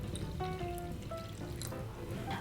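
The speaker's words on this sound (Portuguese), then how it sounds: "eu vou acrescentar 100 ml de leite integral e 150 ml de água." Whole milk and water being poured into an egg-and-flour dough mixture for savory pastry, a steady close trickle and splash of liquid lasting a couple of seconds with no talk.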